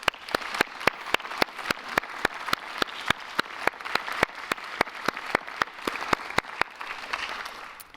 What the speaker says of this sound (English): I would like to invite you all to join me in giving Germany and the German team a round of applause